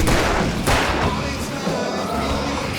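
Gunshots in the video game Alan Wake, several heavy booming shots with sharp onsets spaced about half a second apart, loud and close over a continuous rumbling din.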